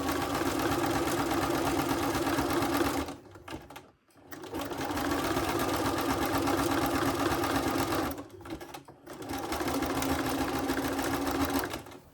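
Sewing machine stitching sash cord into a coiled rope bowl, running in long steady bursts of loud rapid whirring, briefly stopping twice before starting again, close and alone.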